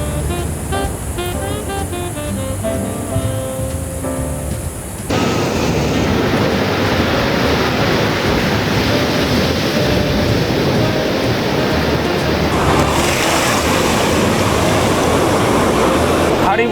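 Caribbean sea waves washing onto a tourist beach in Panama, a steady loud broadband wash of surf that swells louder after a brief musical opening, continuing without pause.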